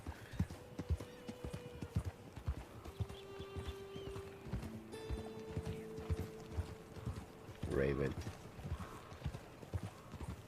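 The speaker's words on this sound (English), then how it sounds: "There's another horse." Horse hooves clip-clop in Red Dead Online, a busy trotting rhythm with a short whinny near the end, while someone says a word over the game sounds.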